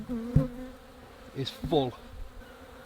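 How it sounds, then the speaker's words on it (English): Honeybees drone steadily over a hive frame crowded with bees and capped honey stores, a close, continuous buzz with a few spoken words over it. "There's so many bees covering, it's hard to tell."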